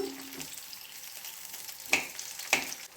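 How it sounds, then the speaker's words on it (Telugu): Steady sizzling of eggplant frying in a pan of oil, with two sharp metallic clinks of a utensil against the pan. "వంకాయ మనకు మగ్గేంత వరకు ఆయిల్లో ఫ్రై చేసుకోవటం"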